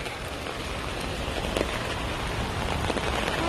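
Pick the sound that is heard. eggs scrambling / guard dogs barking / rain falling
rain falling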